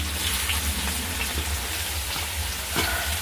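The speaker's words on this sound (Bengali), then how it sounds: "কুচনো পেঁয়াজটা দিয়ে আমি লাল লাল করে একটু ভেজে নেব।" Chopped onion fries in hot oil with a continuous close sizzle and crackle, scattered light scraping taps of stirring throughout, no voices.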